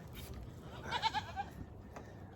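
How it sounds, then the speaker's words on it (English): Goats bleating close by, a few nasal calls clustered in the middle of the clip over a steady outdoor background with some rustling. "I got goats jumping all over me right now"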